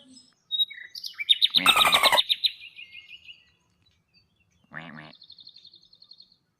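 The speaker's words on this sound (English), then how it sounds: "Dolphin." Dolphin calls: a dense burst of clicks and whistles, then a second, shorter burst of buzzy clicking with a high whistle, heard clearly with silence between.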